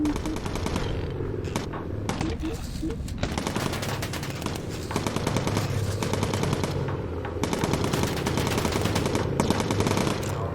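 Bomber turret guns in the video game Bomber Crew fire in long, continuous rattling bursts with brief gaps between them, loud and dense over a steady background rumble.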